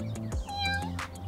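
A kitten stuck up in a tree meows, one clear, high, rising-and-falling cry up close, set among brief soft clicks and background noise.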